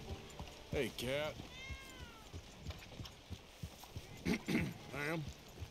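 A cat in Red Dead Redemption 2 gives several meows, including one long drawn-out cry, close and distinct over a quiet town ambience, with some voice nearby.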